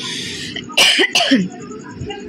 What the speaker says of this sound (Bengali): এত ঠান্ডা লেগে গেছে আর খুসখুস কাশি হয়ে যাচ্ছে